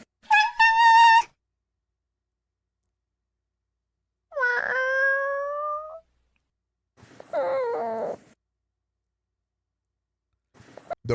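Three drawn-out meows come from a cat in a comedy sketch, separated by silent gaps, each call clear and close, with a brief fourth sound starting right at the end.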